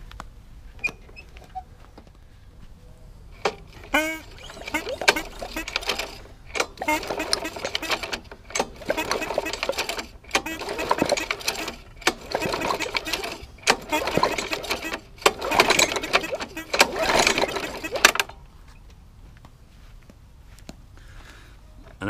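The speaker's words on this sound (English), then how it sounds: "And now I'm going to give this engine a few pulls over." A seized lawnmower engine being pulled over gently by its starter cord a few times, giving a series of repeated ratcheting, whirring bursts up close with short pauses between pulls, followed by quiet.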